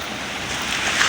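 Sea waves wash at Jumeirah Beach in Dubai, a steady hiss of surf with wind noise across the microphone, close and fairly loud for a brief moment.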